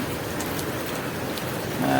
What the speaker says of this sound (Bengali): দেখতে পাচ্ছেন এই মুহূর্তে প্রচুর বৃষ্টি হইতেছে